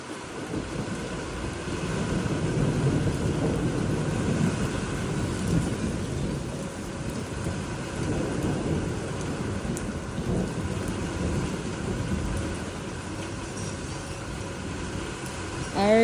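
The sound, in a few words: thunderstorm with rain during Arizona dust storm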